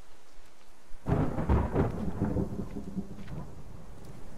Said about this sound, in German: Neuer Gewittersound, neue Regenanimation.